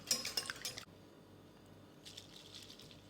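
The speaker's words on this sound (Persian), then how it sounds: "حالا اینو هم میزنیم تا اینا با هم مخلوط بشن" Utensil stirring and clinking in a dish while mixing pasta sauce ingredients before cheese is added, a busy burst of scraping clinks at first, then quiet, then softer stirring near the end.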